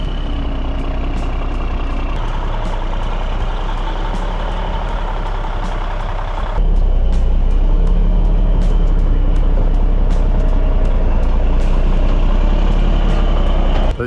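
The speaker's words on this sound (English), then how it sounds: "the dump truck is coming up behind us here, and we'll see if he can make it" A heavy dump truck hauling gravel to a future shop site rumbles loud and close, its engine steady and then swelling louder partway through, with a few brief higher clanks or beeps on top.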